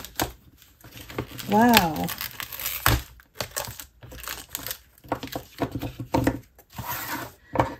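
A package of grid washi tape being unwrapped by hand, with close crinkling and rustling of plastic packaging in irregular bursts while a person speaks briefly.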